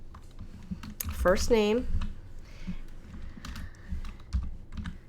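Soft, quiet keystrokes on a computer keyboard click in irregular bursts while a person speaks over the typing.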